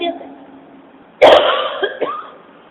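One sharp, close cough bursts out during a spiritual discourse, followed by a short rough throat sound and a second smaller catch, against quiet room tone.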